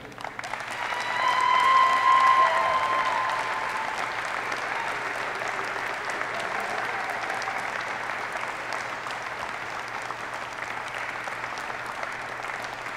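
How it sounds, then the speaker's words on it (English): Sustained audience applause at a U.S. Army Aviation Captain's Career Course graduation ceremony, a dense wash of many hands clapping that swells early and then holds steady and even to the end, with no voices over it. "Please join me in a round of applause for the Aviation Captain's Career Course graduates."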